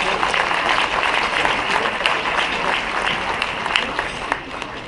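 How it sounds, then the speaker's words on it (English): An audience at the Cleveland International Hall of Fame event gives a sustained round of applause for Debbie, a loud, dense clatter of many hands that tapers slightly toward the end. "can we give a round of applause to Debbie for her hard work?"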